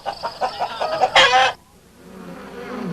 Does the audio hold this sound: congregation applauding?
no